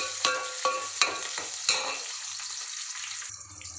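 Onion and dried red chillies frying in oil with crushed garlic, sharp scraping stirs and spatters over a sizzle that fades to a quieter hiss, no talking.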